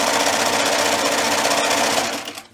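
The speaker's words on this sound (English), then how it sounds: "we're just going to sew across the two pocket pieces. So I'm just putting them in my machine here" Close, loud and steady whirring of a sewing machine stitching across two fabric pocket pieces along a folded edge, running without a break before cutting off at the end.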